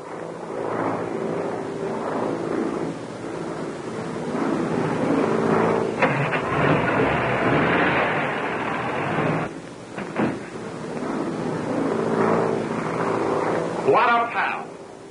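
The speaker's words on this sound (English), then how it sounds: "There's the plane now." Propeller airplane arriving at a 1930s flying field, a steady engine drone rising and holding under people talking, with clattering and shifting noise near the end.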